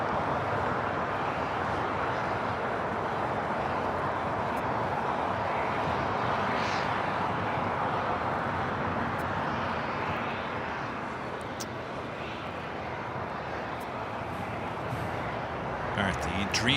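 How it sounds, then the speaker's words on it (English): A Japan Airlines Boeing 777-300ER jet at Los Angeles, bound for Tokyo Haneda, produces a faint, broad engine rumble. Someone talks over it the whole time. "the 777-300ER, Japan Airlines, flight 15, heading back to Tokyo Haneda"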